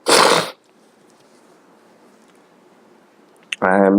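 A single loud close-up sneeze bursts out at the start, followed by quiet room tone, then a short voice comes in at the end.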